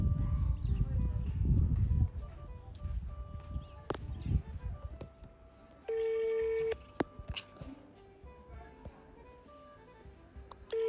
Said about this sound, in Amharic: ልደውልለትና ስልክን ስጠኝ አንዴ